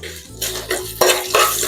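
Ivy gourd tondekai palya with cashews fries in a pan: a spatula scrapes and stirs in about four quick strokes over a steady close sizzle.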